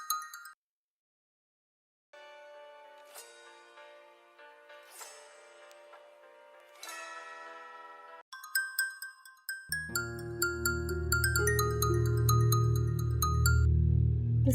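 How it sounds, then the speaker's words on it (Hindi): A phone ringtone chimes repeatedly in a bright melodic pattern, then shifts into a fuller, louder ringing tune that continues to the end. "किसका फोन आ रहा है भाई?"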